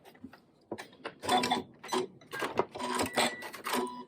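A sewing machine runs a short back stitch on fabric for a small quilted snack bag, giving a few quick mechanical bursts of stitching separated by brief pauses, close and fairly loud with no talking.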